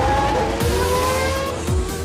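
A Red Bull Formula 1 racing car on a virtual lap accelerates hard, with a loud, continuous high-pitched engine whine that rises in pitch through gear changes, close and dominant throughout.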